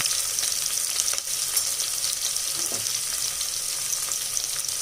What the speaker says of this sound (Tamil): அந்த வெங்காயத்தை சேர்த்து வதக்கி